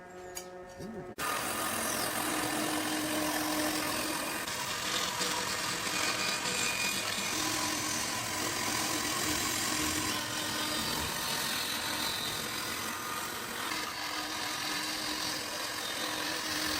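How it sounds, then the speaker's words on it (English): A heavy bandsaw runs steadily and loudly as it cuts the outer rim of a herringbone table top made from industrial pallet wood, a continuous whine and buzz with no break. "After the heavy bandsaw blade defines the outer rim"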